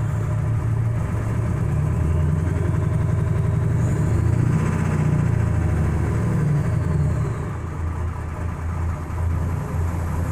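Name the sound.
Ford F-350 7.3 diesel engine revving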